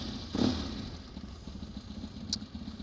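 A motorcycle engine idles with a low, uneven chugging rumble, one short rev near the start, heard from close by without any talking.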